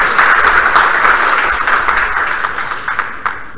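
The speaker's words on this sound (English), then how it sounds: "we've just given you a round of applause" Audience applause filling the room after a talk, a dense steady patter of many hands that slowly fades toward the end.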